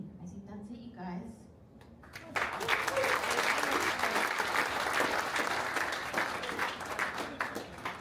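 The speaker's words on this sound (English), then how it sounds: "Can we do another round of applause for Sharon?" Audience applause at a startup event erupts after a speaker's closing words, a dense, sustained clapping that stays loud and fairly even until the end.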